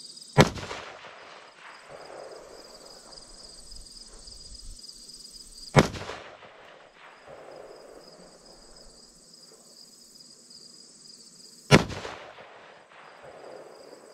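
Three sharp, loud rifle shots from a .223 Wylde rifle firing Remington 68 grain hollow point match ammunition, evenly spaced about six seconds apart, each ringing out over a quiet outdoor range with insects chirping.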